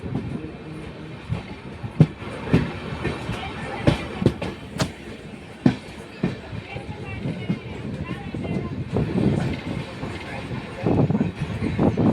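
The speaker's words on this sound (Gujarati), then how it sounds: "ટ્રેને સ્પીડ પકડી છે." A passenger train from Dwarka to Jamnagar rumbles along the rails with clattering, uneven bangs and a steady low roar as it picks up speed, with voices talking over it.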